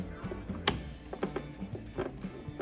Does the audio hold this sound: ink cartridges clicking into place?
yes